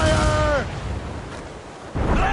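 Ship cannons fire in a broadside during a naval battle in the video game Assassin's Creed Rogue, a heavy booming roar that fills the clip, with voices shouting orders at the start and end.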